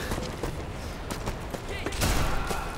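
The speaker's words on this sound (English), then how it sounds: "Fucking sniped him close range." Sniper rifle fire in the video game Sniper Elite V2, sharp cracks and booms over a dense, noisy game soundtrack, with a louder burst near the end.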